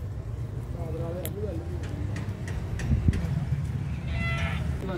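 A qurbani goat bought for sacrifice gives a few wavering bleats in the first two seconds, close by and over a steady crowded outdoor market murmur with traffic, while people talk nearby.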